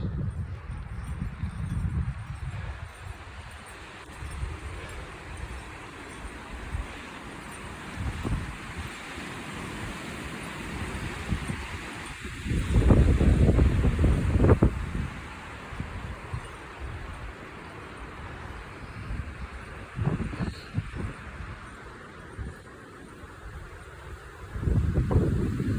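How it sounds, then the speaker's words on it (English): Strong gusty wind buffets the microphone on an exposed mountain trail near Hermits Peak, roaring in uneven surges with loud peaks, with rustling and faint footsteps underneath and no clear talk. "Oh God, it's windy."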